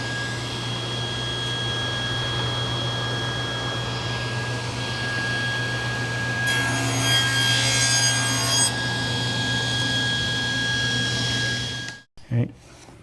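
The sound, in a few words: hand sawing a thin wood strip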